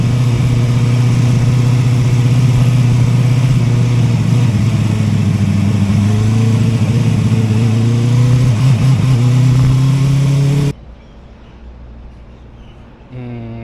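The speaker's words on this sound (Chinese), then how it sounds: "1档、2档或者3档稳着油门的话，它那个是有点稳不住的，会有点发吐的感觉" A Kove 450RR motorcycle engine running loud and close in first gear at around 4000 rpm with the throttle held steady, droning with a wavering, surging pulse before cutting abruptly to a quieter background near the end.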